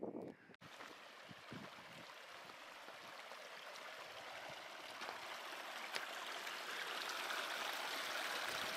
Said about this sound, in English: there's just a tiny, tiny trickle of water right here.